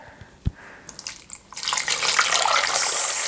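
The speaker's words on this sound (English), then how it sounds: "And then cover it with water." Tap water pours into a pot over a ham hock with bay leaves and peppercorns, starting with a few drips and splashes, then building into a steady, close rushing stream.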